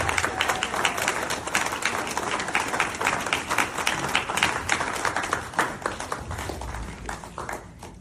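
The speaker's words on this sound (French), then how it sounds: "je vous demande d'applaudir et d'accueillir Christophe Van Helsel" An audience at a public political meeting gives a speaker a warm welcome, with many hands clapping steadily and densely for several seconds before the applause thins out near the end.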